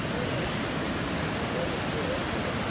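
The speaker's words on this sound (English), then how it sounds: "You can hear the sound of the water." Rushing water from the waterfall at Great Falls in McLean, Virginia, a steady broad roar with no pauses, moderately loud and heard alone.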